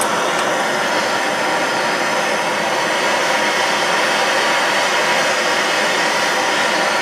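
A gas torch roars steadily up close while it heats the rear drum brake of a 2000 Ford Focus, a loud continuous hiss with no pauses.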